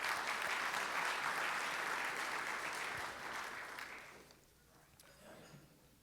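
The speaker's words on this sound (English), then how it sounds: "Let's give them another round of applause." A Rotary club meeting audience claps in sustained applause for about four seconds, then the clapping thins out and fades into a few scattered claps.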